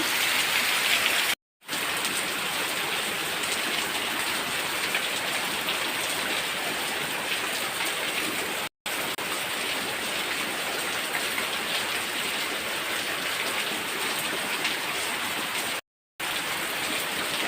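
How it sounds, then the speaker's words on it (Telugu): Heavy storm rain pours down steadily near a house, a dense continuous hiss that stays loud throughout apart from a few brief cuts to silence. "మా ఇంటి దగ్గర అయితే చూడండి ఎంత ఎలా ఉందంటే వర్షం చాలా ఎక్కువ ఉందన్నమాట"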